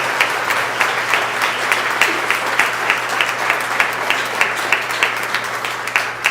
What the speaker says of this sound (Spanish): Vamos a darle un aplauso al padre que está de aniversario en este día.